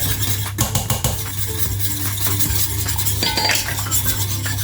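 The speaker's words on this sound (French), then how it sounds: "je vais venir ajouter mon agar-agar et bien mélanger" A utensil stirs agar-agar into water just beginning to simmer in a pot, heard as close clinks and scrapes against the metal over a low steady hum, with a few sharper knocks.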